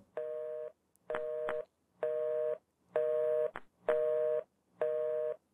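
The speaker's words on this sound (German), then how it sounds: "Guck, man hört den Telefon." Six evenly spaced telephone tones, each a steady buzzing beep about half a second long with short silent gaps between, clear and close.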